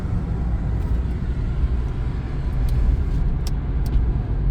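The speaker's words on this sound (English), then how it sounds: "look at that bus is getting towed" Heavy road rumble from a New Jersey Transit bus being towed, a steady low engine-and-tire drone with passing traffic, continuous and fairly close, with no talk over it.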